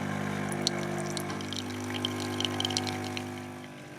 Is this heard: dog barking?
no